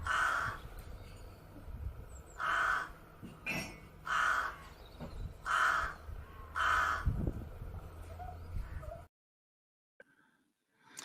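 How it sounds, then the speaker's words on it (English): Rooks cawing in a series of loud, harsh calls, about six grouped caws repeated at steady intervals, close and clear over a faint low background hum, then an abrupt cut to near silence with one brief faint call at the end. "Right, that's the Rooks."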